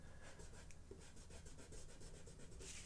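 A pencil drawing of a portrait being erased, with steady back-and-forth scrubbing strokes in a quick, even rhythm, close and fairly quiet, with no voices.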